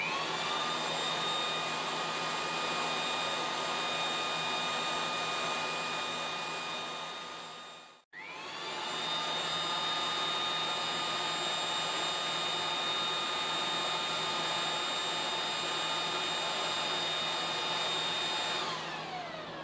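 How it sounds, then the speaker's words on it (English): Leaf blower pushing air at the Eventuri intake of a BMW F8X M3/M4; a loud, steady whirring blast runs close by, cuts out briefly midway, then spins back up and holds, with no talking. "We're going to use a leaf blower to simulate the airflow"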